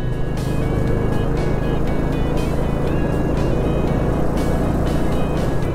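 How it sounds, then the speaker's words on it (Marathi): A fully loaded truck labors up a winding mountain ghat road between Khed and Mandangad, its engine a steady, heavy, close drone that holds at the same level throughout. "आणि हा पूर्ण लोडेड ट्रक आहे,"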